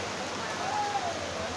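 Steady rain falls at an outdoor market in Sadar Bazar, Delhi, a constant hiss of drops on surfaces, with a faint voice or call drifting through briefly.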